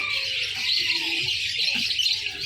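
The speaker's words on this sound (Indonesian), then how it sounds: "full stok kenari" Canaries sing from a crowded bird market stall, a dense, continuous high trilling and chirping chorus with no pauses.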